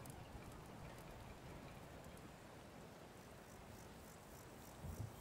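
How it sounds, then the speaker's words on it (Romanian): Rain falling in the video game Kingdom, a faint steady patter throughout with a few soft thuds near the end. "dar tot plouă de câteva zile încoace"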